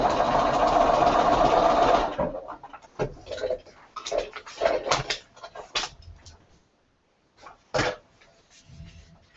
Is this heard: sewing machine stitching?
yes